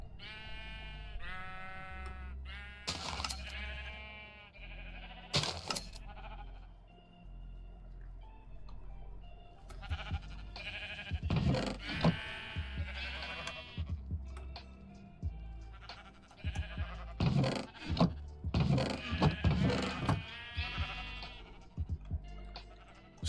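Sheep bleating in Minecraft, several wavering bleats spaced across the clip, mixed with scraping and rustling thuds of game activity, clear and fairly close with no voices.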